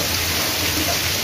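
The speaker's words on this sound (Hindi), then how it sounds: "बहुत ही ज़्यादा तेज़ बारिश होने लगी है यहाँ पे।" Heavy rain pouring down outdoors in Delhi, a dense continuous hiss that fills the whole clip at steady loudness with no voices.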